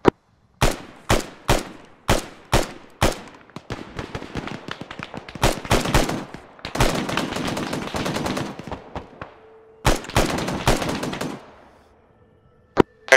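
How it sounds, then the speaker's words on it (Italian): Gunfire in the military shooter game Arma 3, loud single shots at a steady pace, then long dense automatic bursts and more spaced cracks, with a quieter tail between volleys and no talk. "Aez, fai attenzione a dove spari, che sono davanti a te."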